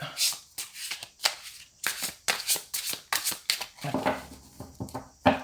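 Tarot cards are shuffled in quick, rhythmic bursts of papery riffling and slapping, close up, with a voice faintly in the background.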